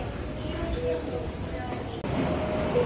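Senseki line train at Sendai station in Japan, a continuous rumble of the railcar and platform with a brief cutout and louder resumption, and a voice speaking over it.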